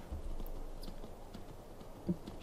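Soft, irregular hoof clops from a walking horse in the video game Skyrim, faint and a little muffled over a steady background hum, with one brief louder knock near the end.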